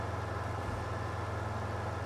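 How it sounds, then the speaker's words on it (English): A blue tractor engine in the Farming Simulator 25 video game drones steadily with a jet-like whine over a low hum, continuous and moderate in level. "Why does that blue tractor sound like a jet?"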